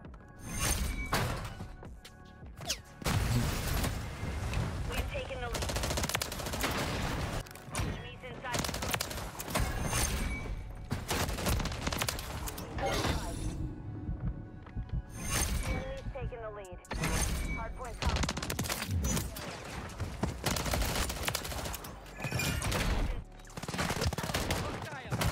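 Weapon fire in the video game Call of Duty MW3 comes in repeated loud bursts and rapid volleys throughout, while someone talks over the shooting.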